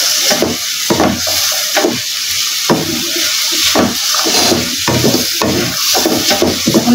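Potatoes are stirred and fried in a pan of mutton kosha with a little water, rhythmic scraping strokes of a spatula over a lively crackling sizzle, close and loud.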